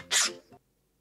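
A single sharp human sneeze, loud and close, bursting out and then trailing off into a brief softer tail before silence.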